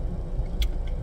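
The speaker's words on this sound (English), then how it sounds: "It's traffic." Road traffic heard from inside a car makes a steady low rumble of engine and road noise, with a brief brighter click partway through.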